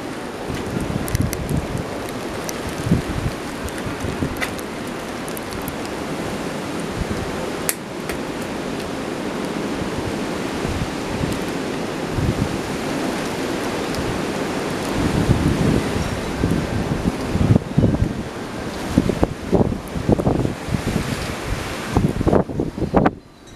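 Strong storm wind roars and gusts continuously, loud broadband rushing with microphone buffeting that surges harder toward the end, alongside scattered knocks and rattles.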